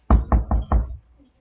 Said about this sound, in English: The door was open, but he knocked.